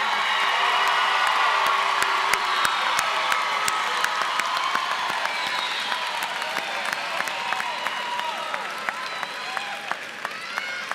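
A crowd applauds and cheers the Wagener-Salley High School graduating class of 2023, sustained loud clapping with whoops, shouts and scattered sharp claps that slowly thin toward the end.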